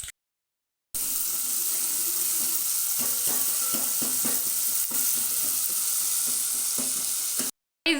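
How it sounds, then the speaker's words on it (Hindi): Loud, steady sizzling of spices, ajwain and onion frying in hot oil, with crackles and pops throughout, cut off briefly by silence at the start and end. "इस तड़का लग चुका है"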